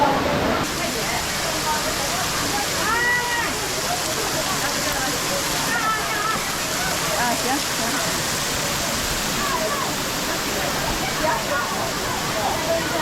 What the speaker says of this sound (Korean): 폭포 아래로 들어가 보도록 하겠습니다.